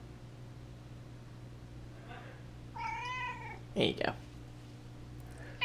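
A cat gives a drawn-out meow followed by a short sharper cry, close and fairly clear over a steady background hiss, with a person's brief speech between them.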